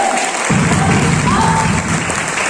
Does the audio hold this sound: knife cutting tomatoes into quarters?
no